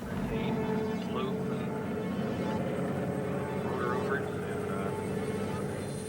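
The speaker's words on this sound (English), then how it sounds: "the American Lockheed H-286 helicopter. It features a rigid rotor and has aerobatic capability." A Lockheed H-286 rigid-rotor helicopter flies at the 1985 Paris Air Show, its rotor and engine giving a steady, somewhat distant drone that holds at an even level across the whole stretch.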